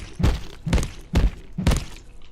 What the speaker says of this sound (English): I hear my disc current shooting at something.